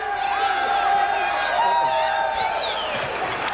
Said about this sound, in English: I tell you, the Oakland Zoo is going bananas back here behind me.